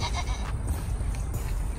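Goats bleat on a farm over steady wind or handling noise, with short cries rising in the first second and again faintly near the end.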